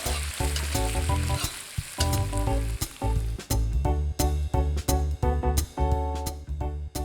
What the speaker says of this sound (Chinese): 然后依次放入焯过水的冬笋、薄千张、豆干、油豆腐，加入炒好的豆芽，时间略长，要炒到完全熟透。